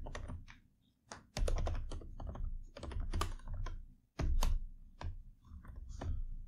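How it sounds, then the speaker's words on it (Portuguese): Someone types JavaScript code on a computer keyboard close to the microphone, with irregular bursts of key clicks and short pauses between runs. "e aí eu vou digitar aqui"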